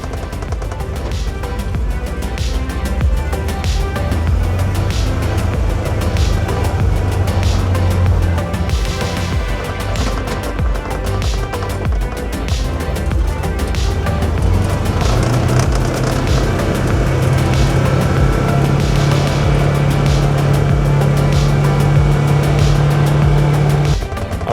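A Polaris Ranger 1000 UTV on a road test ride after a belt replacement, its engine droning steadily and close throughout, with pitch rising as it gathers speed.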